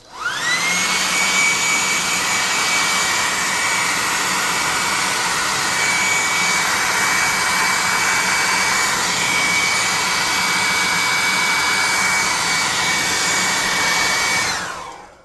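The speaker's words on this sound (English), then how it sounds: "Let's hit him with some hot air from the" A blow dryer blasts hot air onto a painted forest troll model, a loud steady whooshing roar that spools up at the start, holds level for about fourteen seconds with a high whine, then cuts off.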